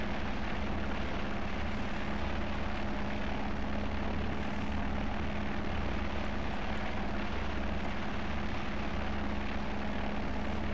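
A steady propeller aircraft engine drones continuously at a distance, an even, unchanging hum with no voices.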